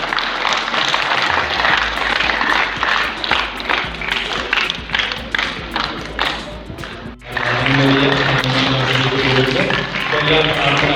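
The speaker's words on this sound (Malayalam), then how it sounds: "എല്ലാവരും ഇവിടെ കൈയടിക്കുക." Church hall audience at a Sunday school farewell for departing teachers claps steadily in a sustained round of applause, close and lively, with a voice speaking over it.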